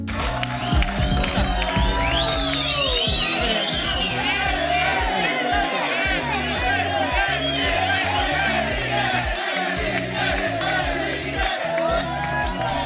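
A talk-show studio audience cheers and whoops for a woman in the final segment, a dense, loud, continuous roar of voices and applause lasting throughout.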